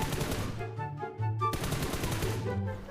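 Hip-fire gunfire in the mobile game PUBG Mobile: rapid, loud automatic bursts in quick succession, with a brief pause before the shooting resumes.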